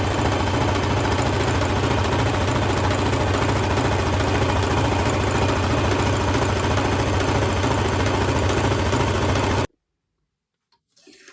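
A sewing machine stitches along a fabric tote bag with coloured thread, giving a steady, buzzing motor whir with a rapid mechanical chatter for about ten seconds before it stops abruptly into near silence.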